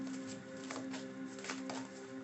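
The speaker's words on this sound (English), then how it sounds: "let me shuffle" Tarot cards shuffled by hand, giving a soft, close, papery riffling patter that runs in short bursts for a couple of seconds over a faint steady hum.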